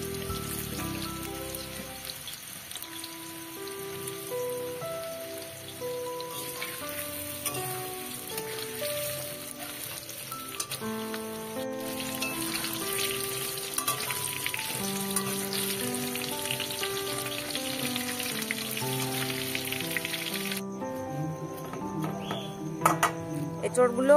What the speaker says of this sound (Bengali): এখন ওই তেলের ভেতরে এঁচোড়টাকেও আমি দিয়ে দিচ্ছি, এঁচোড়টাকেও ভেজে নেব।